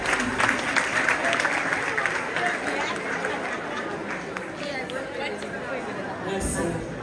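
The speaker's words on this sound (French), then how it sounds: "Applaudissez-vous." An audience of schoolchildren at a World Book Day celebration breaks into sustained, loud applause that is dense and steady, mixed with excited crowd chatter throughout.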